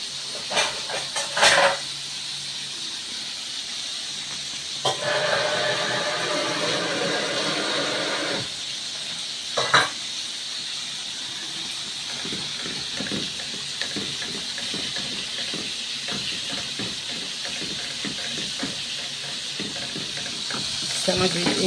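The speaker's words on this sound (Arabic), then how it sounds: "السمك بيتقلي اهو." Fish fillets frying in a pan for Egyptian sayadeya rice, a steady hiss and sizzle of hot oil running throughout, with a few sharper crackles and spatters and occasional brief kitchen clatter.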